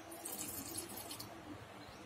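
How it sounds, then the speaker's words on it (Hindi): Water is poured in a light, steady trickle into a large bowl of semolina, gram flour and yogurt batter, close and fairly soft, with no one speaking. "थोड़ा सा साथ में पानी डाल देंगे।"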